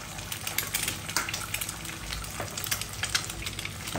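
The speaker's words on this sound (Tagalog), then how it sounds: "Itlog naman ang ating ipiprito ngayon. Dito na rin sa pinagprituhan ng ating burger patty." An egg fries in a pan of leftover burger patty grease, giving a steady crackling sizzle with bursts of popping spatter, close and fairly quiet.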